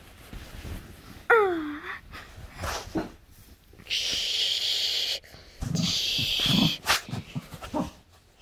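A dog whimpers and whines in short bursts: a rising whine, some breathy gasps, and longer moaning stretches with sniffing, heard close up with no talking.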